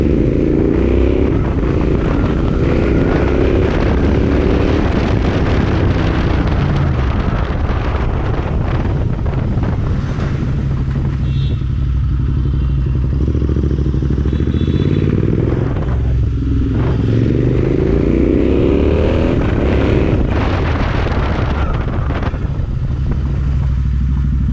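Royal Enfield Interceptor 650 with an aftermarket exhaust out on a ride, its engine droning continuously under heavy wind buffeting on the microphone, loud and constant throughout.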